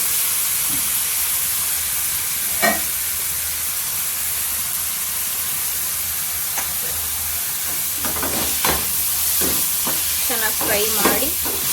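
Tomatoes with chili powder and turmeric frying for egg curry, with a steady close sizzle and occasional scraping and stirring strokes that pick up toward the end.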